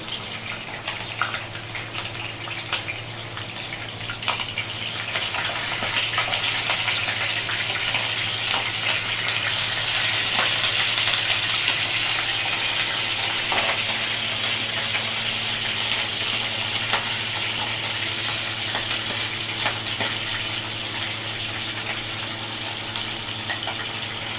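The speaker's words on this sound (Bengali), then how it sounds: "এবার আস্তে আস্তে মাংসগুলো এতে ছেড়ে সোনালি করে ভাজবো" Mutton pieces fry golden in hot oil in a frying pan with a steady, moderately loud hissing sizzle. The hiss swells after a few seconds and carries on evenly with faint crackles, with no voices.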